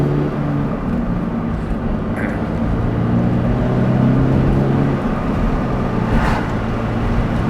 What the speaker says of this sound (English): Most of the noise is just tire noise.